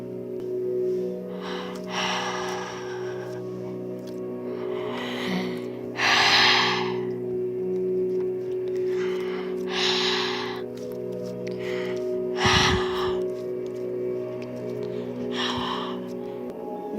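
Heavy, audible breaths come through a close microphone in repeated bursts, roughly every two seconds, over a steady low electrical hum.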